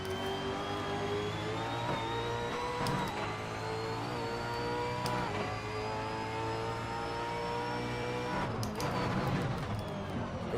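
A Holden V8 Supercar in Assetto Corsa, 2018 V8 Supercars mod, drones with a steady high revving engine tone that climbs and holds, loud and continuous with brief shifts.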